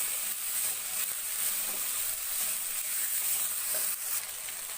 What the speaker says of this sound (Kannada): ಚೆನ್ನಾಗಿ ಫ್ರೈ ಆಗಲಿ ಇದು ಸ್ವಲ್ಪ ಹಸಿ ವಾಸನೆ ಎಲ್ಲ ಹೋಗೋವರೆಗೂ